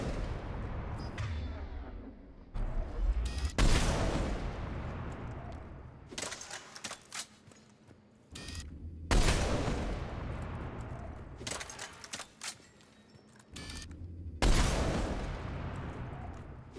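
Grenade explosions and gunfire in Mass Effect Legendary Edition: repeated loud booming blasts with long crackling, rumbling tails, mixed with bursts of rapid shots, close and dominant throughout.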